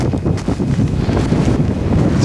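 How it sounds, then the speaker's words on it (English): Strong cold wind gusts across a frozen, icy shore, roaring steadily and loudly as a buffeting rush against the microphone, with no pause throughout and no voices. "Whoa, that's a big blast of wind."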